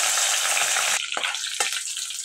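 Cinnamon sticks and two or three bay leaves fry in hot oil for egg korma, a loud steady sizzle that drops abruptly after a second, leaving a quieter crackle with a couple of stirring clicks.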